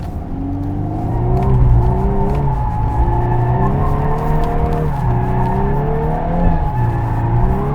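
VW Golf 8 R with ESP switched off lapping a wet circular skid-pad track, its engine steadily revving and rising in pitch through continuous cornering, with faint tyre noise; loud and close throughout, no talking.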